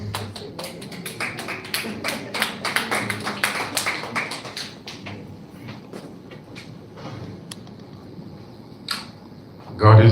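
Applause from a church alumni reunion audience, a dense patter of many hands filling the first half and then thinning to scattered claps before fading out.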